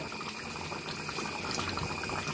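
Fish curry with tamarind and green chillies simmering in a pot, a steady soft bubbling and gurgling that stays even and close throughout, with no voices over it.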